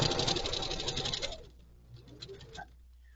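A sewing machine stitches fabric for a gift project made from a coffee sleeve template, running in a steady close whir for about a second and a half before stopping, leaving faint small handling noises.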